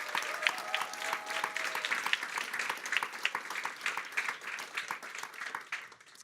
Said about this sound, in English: can I get one round of applause for our amazing volunteers?